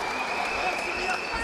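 Boxing arena crowd at a bout between Sophiane Allouche and Jordon Watson, a dense steady roar of cheering and applause filling the hall, continuous and moderately loud throughout.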